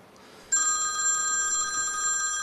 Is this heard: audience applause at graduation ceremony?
no